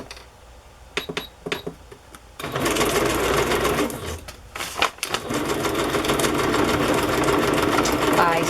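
A sewing machine stitches through a vintage Christmas Carol book page, starting after a few sharp clicks and then running in a loud, continuous mechanical whir with a brief pause in the middle.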